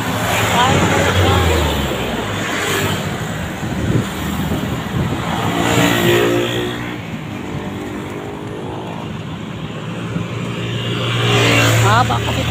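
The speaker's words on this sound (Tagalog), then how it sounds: "Nadaanan ng sasakyan." Vehicles rumble past on a long bridge, swelling loud near the start and end with a fainter stretch between, while a person talks over the traffic.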